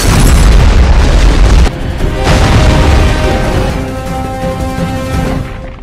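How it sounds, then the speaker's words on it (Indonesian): A briefcase shot and exploding in a James Bond film, a loud booming blast followed by rumbling debris and a lingering ringing tail. "Tapi ternyata Marco selamat dari ledakan tersebut."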